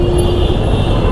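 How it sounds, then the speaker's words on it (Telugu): Heavy road traffic passing beneath a metro line at KPHB, a steady dense roar of many vehicles close by, continuous and loud with no gaps. "మెట్రో కింద ఎంత ట్రాఫిక్ ఉంది చూడండి."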